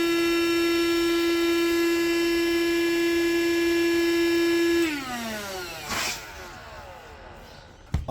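A Bestway ALWAYZAIRE queen air mattress fills with a built-in electric air pump. A steady, tonal motor whine holds for about five seconds, then cuts off and winds down in falling pitch, ending with a short click.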